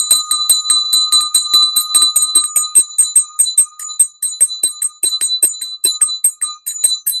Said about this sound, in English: I don't know why people ring bells at the end.